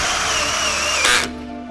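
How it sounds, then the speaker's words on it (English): A power drill drives a stainless steel self-tapping screw up from below into an ADA continuous handrail at a wall mount, a steady whirring run that swells into a brief louder burst before cutting off. "this is a stainless steel self-tapping screw coming up from the bottom"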